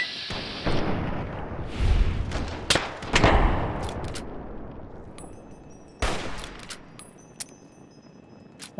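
Gunfire in Fallout 3 with a mod list: several loud, sharp shots and a burst of rapid fire in the first half, then a couple of spaced single shots with ringing tails later on.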